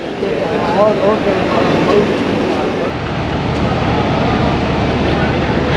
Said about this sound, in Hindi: चार बजकर 25 मिनट और लोकोमोटिव आ चुका है